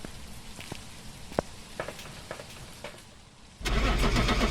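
A truck engine cranks and catches in a ghost-hunting video game, a few light clicks and knocks giving way to a sudden steady, loud engine rumble that continues to the end.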